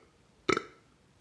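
A single short, loud burp, voiced by a man as a playful aside, standing alone against near silence with a brief fading tail.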